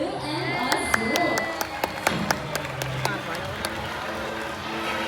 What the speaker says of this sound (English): how about a round of applause for blue and azul?